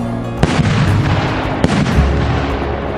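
Peony fireworks burst in a dense, loud barrage of booms and crackles, with a couple of sharper reports standing out over the continuous rumble.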